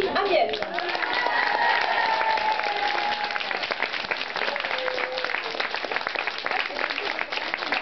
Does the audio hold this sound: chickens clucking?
no